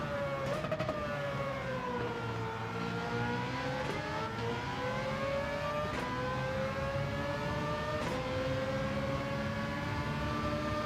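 A car engine holds a steady, sustained drone with shifting harmonic pitch and small rises in revs, continuous and fairly loud, with a few sharp clicks along the way and no talk.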